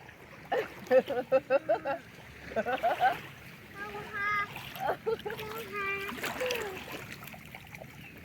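Water splashes in repeated bursts as people swim in a race toward the far side of a swimming spot, with children's voices talking and calling out over the watery commotion.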